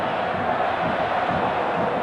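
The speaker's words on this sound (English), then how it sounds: "Crowd doing their best to raise their team's morale" Serie A football crowd at a Juventus versus Inter match in 1992-93, a dense continuous roar of chanting and noise from the stands, steady and broad without distinct voices.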